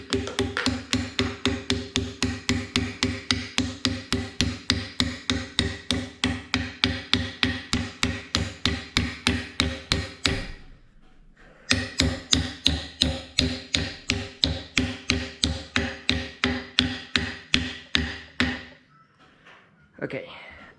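Steady, rapid hammer taps on metal, evenly spaced, as a car U-joint held in a vise is driven into place, with a short pause midway before the tapping resumes; no talking.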